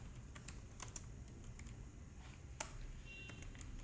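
Code typed on a computer keyboard during a Laravel programming tutorial: quick irregular clicky keystrokes, close and fairly quiet, alone over faint room noise.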